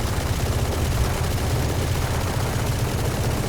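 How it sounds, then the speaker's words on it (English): The Odin machine gun in the video game Valorant fires in one continuous, very rapid stream of heavy shots that blur into a dense, steady roar, loud and close. "moving on to the last gun, the Odin. So this actually feels heavy."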